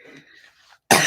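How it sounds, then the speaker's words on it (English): A single sharp cough, loud and close, breaks out after a soft murmur and a brief silence, at a live honey harvesting session. "Have this cough."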